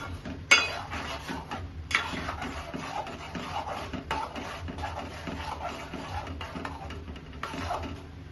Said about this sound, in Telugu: కొంచెం కారం కలిపేద్దాం కారం వేసి.